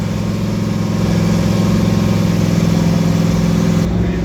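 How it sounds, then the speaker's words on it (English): The Pfaff Motorsports Lamborghini race car engine runs steadily in an IMSA paddock with a deep, throbbing drone, holding a constant idle-like rumble throughout, close and loud. "And now what you hear running is the Pfaff Motorsports Lamborghini."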